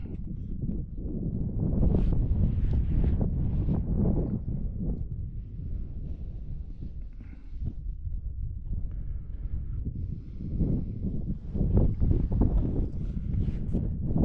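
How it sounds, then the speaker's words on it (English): Strong wind buffets the microphone during a pronghorn antelope hunt on Wyoming public land, a loud, low, gusting roar that swells and eases over several seconds with no speech. "It's windy and hot. Wind is rolling."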